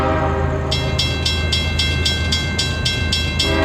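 A unit train passes near Plant City with a steady low rumble of rolling wagons and a rhythmic series of rapid clanking pulses, close and loud, with no voices.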